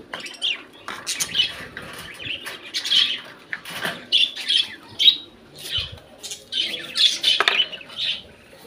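Many pet birds in a home aviary setup squawk and chirp at morning feeding time, a dense, overlapping chorus of sharp calls with occasional wing flaps, fairly close and continuous throughout.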